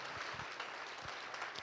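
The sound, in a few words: church congregation applauding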